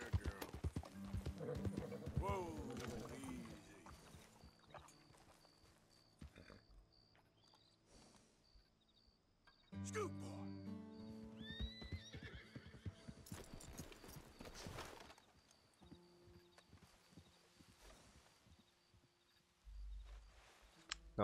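Horses in the open world of the Western video game Red Dead Redemption 2: steady clip-clop of hooves with whinnying and neighing, loud near the start and again midway, under intermittent game sounds and speech.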